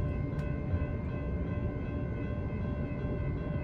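Steady rumble of a passing city commuter train at a road crossing, with a sustained tonal hum over broadband noise, continuous and moderately loud, no voices.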